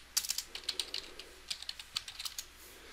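Rapid typing on a computer keyboard, a close series of crisp clicking keystrokes in quick irregular bursts with short pauses, heard alone with no talk.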